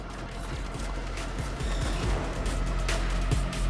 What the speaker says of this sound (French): Il y a une big explosion là.